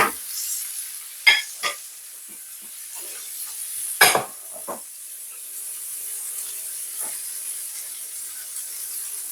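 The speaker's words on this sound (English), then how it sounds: "I'm just gonna add them straight to the pan. Cook them off a bit." Vegetables cooking in a pan for a jerk chicken and cheese baguette, a steady soft sizzle with a few sharp scraping stirs near the start and middle, close and moderately loud, no talking.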